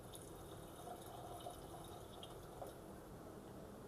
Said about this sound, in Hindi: अभी और थोड़ा सा मैं पानी डाल दे रही हूँ